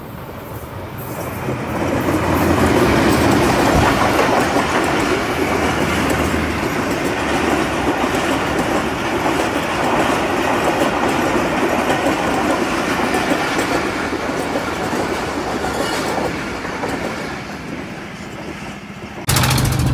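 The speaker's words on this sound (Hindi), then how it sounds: "आपको ये रास्ते में एक ट्रेन के आने का खूबसूरत मंज़र," A train rolls past on a railway line, building to a loud, sustained rumble and rhythmic wheel clatter that holds for most of twenty seconds before easing, with no voices.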